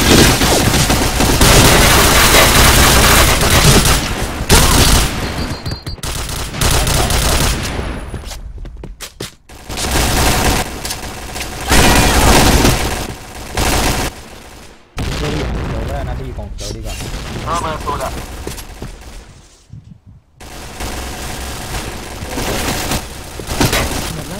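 Dense gunfire and booming blasts from a Thai clan-war match, Phantomtroupe versus Winner, sustained and loud throughout with brief gaps, with voices talking over the shooting.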